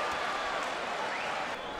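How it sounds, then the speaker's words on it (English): A large crowd at a boxing match in Madison Square Garden roars and applauds in a dense, continuous wash of noise, with a commentator's voice faintly underneath. "The crowd absolutely loves it here in Madison Square Garden."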